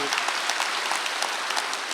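A Korean church congregation at a Sunday service claps together in a steady, close run of hand claps, filling the room evenly for the short stretch.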